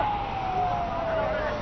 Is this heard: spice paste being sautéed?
no